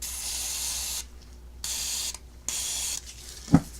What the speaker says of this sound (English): Spray a little deoxit on these contact areas.